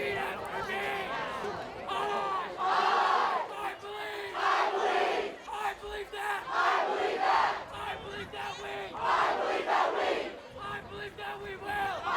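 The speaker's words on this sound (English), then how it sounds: "Here, the Durfee students cheering." Students at a high school football game between Durfee and Dartmouth yell and cheer in rising bursts, a dense crowd of voices that swells and fades repeatedly, moderately distant.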